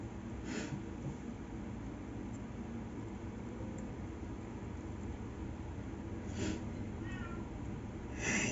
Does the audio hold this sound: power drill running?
no